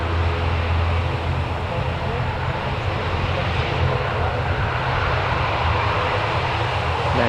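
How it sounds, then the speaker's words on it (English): Aer Lingus airliner moving at Newcastle Airport, its engines producing a steady broad roar and low hum that hold constant throughout, with faint voices underneath. "There's the Aer Lingus now moving"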